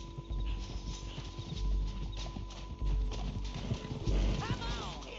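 Horse hooves clip-clopping with a whinny in the video game Red Dead Redemption, heavy footfalls under loud game noise and voices, with a rising neigh near the end.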